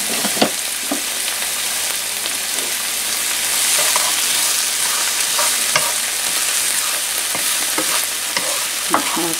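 Garlic sizzles and fries in a hot pan for soy glazed chicken, a steady crackling hiss with frequent stirring clicks and scrapes, close and fairly loud with no talking.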